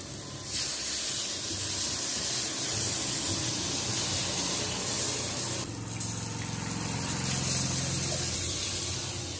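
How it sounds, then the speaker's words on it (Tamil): Tamarind water pours into a simmering crab curry, making a steady gushing, hissing splash that runs throughout, close and moderately loud, briefly easing midway before carrying on. "இப்போ இந்த புளி கரைச்சி ஊற்றிக்குவோம்"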